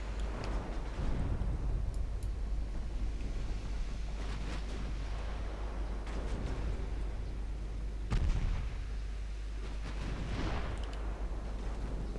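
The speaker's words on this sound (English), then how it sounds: "Let's go HE on the main guns." Naval main guns fire high-explosive shells in the warship game Ultimate Admiral Dreadnoughts, with several deep booming salvos spaced a few seconds apart over a steady low rumble.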